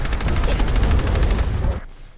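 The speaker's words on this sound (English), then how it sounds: "So we will try the submachine gun" A modded submachine gun in Fallout 4 fires a rapid, even burst of loud, close shots for nearly two seconds, then cuts off abruptly into quiet, with no voices.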